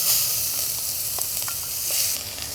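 Onions and garlic sizzle loudly and steadily in a saucepan, a close, continuous frying hiss with faint stirring clicks and no talking.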